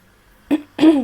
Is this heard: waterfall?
no